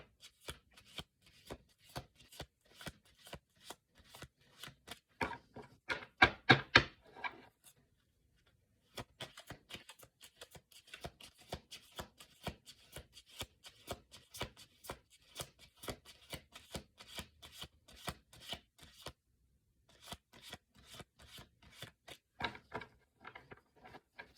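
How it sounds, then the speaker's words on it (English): A deck of oracle cards is riffled and shuffled over and over in quick rattling bursts, with a short pause near the middle and another toward the end, close by and with no talking. "when I'm done shuffling, I like to like straighten the cards"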